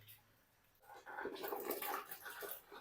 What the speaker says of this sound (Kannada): ನೀರು ಸಿಡಿತಾ ಇದೆ ಬಟ್ ಹುಷಾರಾಗಿ ಹಾಕ್ಬೇಕು